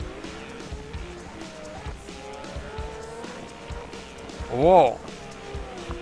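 Tires squeal in a brief, loud burst as a car is thrown into a drift in a virtual drift racing game, rising above steady engine drone while a commentator talks throughout.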